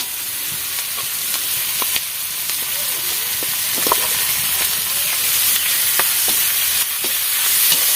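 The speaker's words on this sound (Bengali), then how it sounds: "টমেটো, পেঁয়াজ, আদা রসুন দিয়ে টমেটো দিয়ে কষে নেবো" Ginger, garlic, onion and tomato frying in oil for a tangra fish curry, giving a loud continuous sizzle with intermittent spatula scrapes and knocks against the pan, no one speaking.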